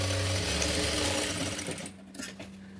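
A sewing machine runs steadily as it stitches a blouse seam, a close, loud motor whir with a rapid needle rhythm. It slows and stops near the end, leaving quieter handling noises.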